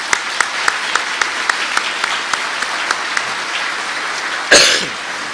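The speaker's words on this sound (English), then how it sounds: "you should give all of them a big round of applause today" Applause at a convention during a minister's address, a dense, steady clapping with regularly spaced sharper claps standing out, ending in a short louder burst.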